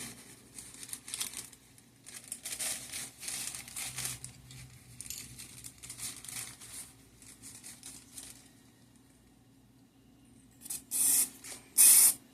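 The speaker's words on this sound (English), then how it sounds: "Trying to spray a little more in the back." Soft hissing bursts from an aerosol can spraying a cake come in short intermittent puffs, ending with two louder, closer sprays after a quiet pause.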